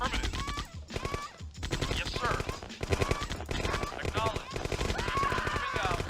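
Rapid bursts of gunfire from units in the Command & Conquer: Tiberian Dawn strategy game crackle repeatedly amid game music and effects, with a voice talking over the action.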